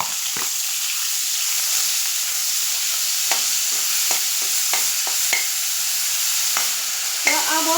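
Grated onion fries in hot oil in a wok, giving a steady close broadband sizzle with a few sharp scraping stirs and clinks scattered through, and a brief squeaky scrape near the end.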